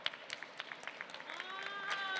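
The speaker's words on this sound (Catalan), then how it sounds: "Un aplaudiment per ella, sisplau." Light applause from an audience at a manga convention panel in Barcelona, scattered claps building slightly over faint room noise, with a voice speaking over it.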